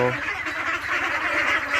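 Ducks at a small duck farm quack and honk continuously as a dense, close flock, with a steady overlapping chorus throughout.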